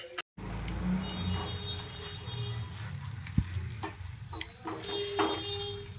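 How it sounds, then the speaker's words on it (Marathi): Eggplant masala sautéing in a pan for a dhaba-style curry, with steady close sizzling and frying and occasional scraping stirs and a utensil clink. "मसाल्यातून तेल सुटेपर्यंत आपण याला छान असं परतून घेऊया."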